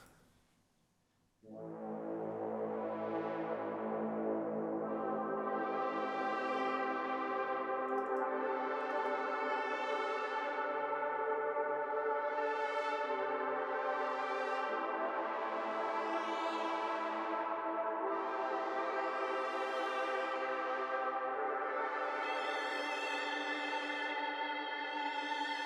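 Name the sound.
synth pad with room reverb in a dub techno track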